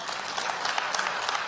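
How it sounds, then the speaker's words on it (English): A congregation claps as praise in a church service, a short burst of crowd applause with quick, scattered hand claps at moderate level. "Let us give another hand clap of praise to God."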